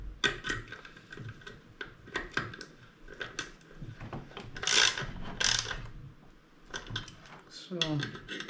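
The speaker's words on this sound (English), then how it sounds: "And then we'll just take a ratchet, or 10 millimeter socket. And we'll go ahead and just kind of crank these down." A ratchet with a 10 mm socket cranks down bolts on an outdoor enclosure, giving close, quiet clicking bursts alongside handling clatter while someone talks.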